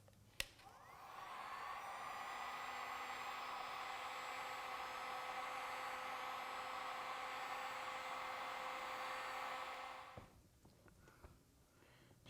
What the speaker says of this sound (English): you do with a bumper is going to be accompanied with this heat gun.